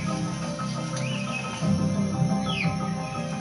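Birds chirp in New Guinea, with a few rising whistled calls over a steady hum of insects and background noise, fairly faint and distant.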